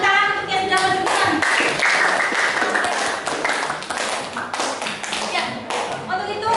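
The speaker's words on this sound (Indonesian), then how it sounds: "Kasih tepuk tangan untuk yang sudah maju ke depan." Classroom applause for a student group that presented at the front, with scattered hand claps and taps throughout, plus children's voices chattering over it.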